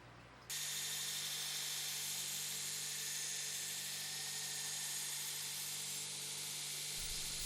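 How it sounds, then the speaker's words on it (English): Steady, loud abrasive grinding of bevels into a bowie knife forged from old leaf spring steel, hardened and tempered, starts abruptly after a brief quiet moment and runs unbroken to the end. "There I'm just grinding in the bevels."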